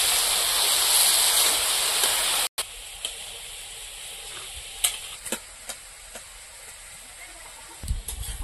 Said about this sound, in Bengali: এবার এইভাবে শাকটা নাড়াচাড়া দিয়ে দিয়ে ভাজা করে নেব।